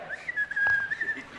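A person whistles a single sustained tone that wavers slightly in pitch for just over a second, fairly quiet and close, with no talking over it, during a FlipTop rap battle reaction.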